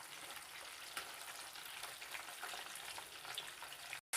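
KFC-style spicy chicken nuggets fry in hot oil with a steady, close hiss and crackle that holds evenly throughout, then cuts off abruptly at the end.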